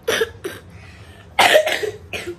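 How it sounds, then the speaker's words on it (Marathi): A child coughs in several short bursts, two quick coughs, a pause, then three more, close and fairly loud. "खोकते आहे."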